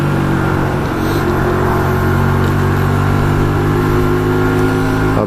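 A Hyosung Aquila 125 motorcycle at full throttle, engine held at a loud, steady high drone with a strong harmonic whine, close and continuous with wind noise throughout.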